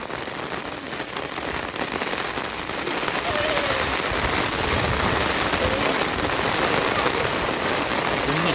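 Steady rain pours outdoors at the Devaramane viewpoint in Chikkamagaluru, a dense continuous hiss drumming on surfaces and umbrellas while people walk through it, growing slightly heavier partway through.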